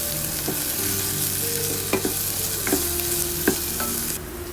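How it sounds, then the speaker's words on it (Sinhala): Onions, garlic, green chilies and mustard seeds fry in oil with a loud, steady sizzle, while a spoon scrapes and clacks against the pan in several sharp stirring strokes, close up and without talk. "ඉතින් මං මුලින්ම එකට තෙල් ටිකක් දාලා ඊට පස්සේ අබ එකතු කරනවා. ඊටත් පස්සේ ලූණු, සුදු ලූණු, අමු මිරිස් දාලා ඒ ටික හොඳට කලවම් කරගන්නවා."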